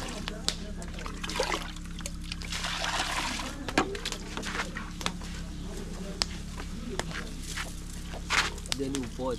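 Water pours and splashes into a pot of rice during home cooking, a continuous trickling and sloshing with scattered clinks and knocks, heard under a person talking.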